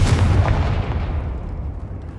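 Confringo explosive spell going off in the Hogwarts Legacy video game, one loud close booming blast that fades into a lingering rumbling decay.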